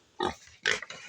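Newborn piglets give a few short, close squeals and grunts in two quick bursts with a small gap between.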